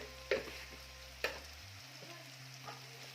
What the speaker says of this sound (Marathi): कांदा थोडं मीठ घालायचं त्यामुळे कांदा पटकन भाजला जातो